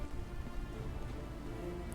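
Steady rainfall in the Hitman 3 video game, a continuous soft hiss of drops at a moderately low, even level with no voices over it.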